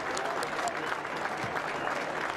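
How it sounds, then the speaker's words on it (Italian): A stadium crowd applauds at the Zaffanella during an Italy A v Romania A rugby test match. The sound is a dense, even wash of clapping, heard briefly from a distance. "Intanto gli applausi dello Zaffanella per"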